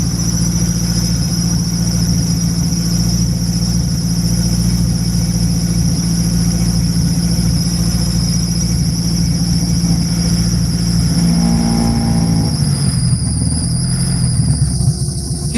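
A steady high-pitched belt squeal rides over the loud, continuous running drone of a Honda K20-swapped EG chassis with a GT35 turbo and FuelTech setup; the engine note shifts and drops near the end.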